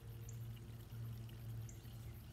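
Water pouring into a tier of a GreenStalk vertical planter, a quiet continuous trickling stream with a low steady hum beneath it.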